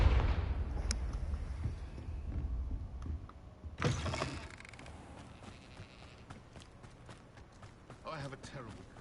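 A Confringo spell explosion in Hogwarts Legacy bursts out as a sudden broadband blast a few seconds in, followed by scattered clicks and thuds from the game, with spoken words mixed in early on.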